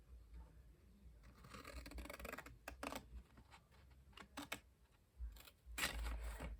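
Paper lines being cut for a Stampin' Up! exploding gift box, heard as soft close snips and scraping strokes. They repeat irregularly at low volume over faint handling noise, with no talking.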